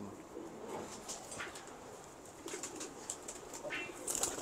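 A small female pigeon coos softly and faintly amid light fluttering bursts of wing flaps, the sounds coming in short scattered pulses over a quiet background.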